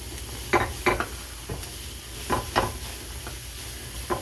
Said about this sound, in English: Now what I want to do is cook this for a minute because I do want the mushrooms cooked a little bit